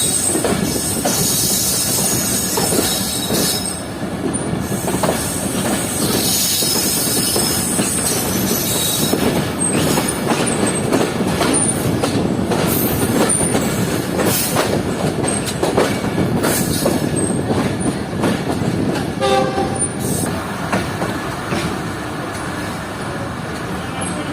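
The decorated Sir Syed Express, a privatized train on its inaugural run, rolls steadily along the rails with continuous rumbling, rhythmic clickety-clack and occasional squeals of wheels, heard close and loud throughout.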